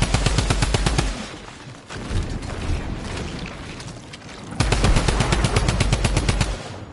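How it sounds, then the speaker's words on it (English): Assault rifle fire in Fortnite, loud rapid automatic bursts close by: a long burst, a short pause with rumble, then another sustained burst of evenly spaced shots. "this assault rifle isn't hitting a fucking thing"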